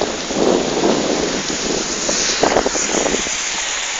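Heavy rain falls outdoors in a steady loud hiss, with bursts of patter and splashes close by and a low rumble underneath, and no voices.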